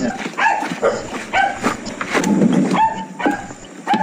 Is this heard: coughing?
no